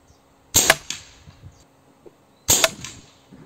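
Two sharp, snappy air rifle slug shots from a 600mm Fiora barrel, about two seconds apart, each with a quick crack and short fading tail in a quiet setting.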